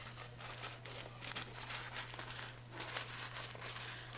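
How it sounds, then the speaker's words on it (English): Faint crinkling and rustling of plastic and paper packaging as a shipping box of Hoya plants is opened, soft irregular bursts over a low steady hum. "I'm going to go ahead and open this one first."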